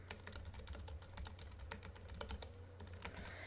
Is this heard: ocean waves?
no